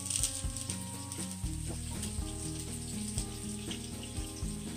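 Butternut squash fritters and orange roughy sizzle in a pan, a steady close crackle with scattered pops and light stirring, without talk.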